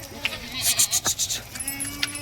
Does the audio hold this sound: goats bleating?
yes